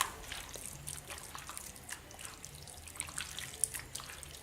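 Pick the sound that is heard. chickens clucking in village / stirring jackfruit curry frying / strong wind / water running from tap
water running from tap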